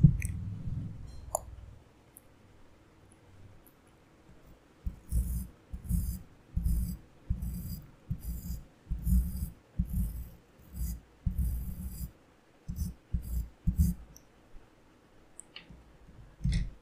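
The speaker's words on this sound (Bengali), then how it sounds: "আচ্ছা, তো এবার আমি চুলটা কাটছি" Scissors snip hair in a barber roleplay, with a series of close, crisp cuts in an uneven rhythm following a quiet opening.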